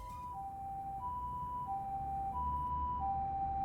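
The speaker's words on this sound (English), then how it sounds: "Ambulance." Ambulance siren from the video game Shuten Order, a steady two-tone wail alternating between high and low pitches in a regular rhythm over a low rumbling background, fairly close and continuous throughout.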